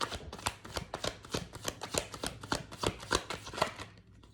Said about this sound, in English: I'm just going to pull a couple more cards.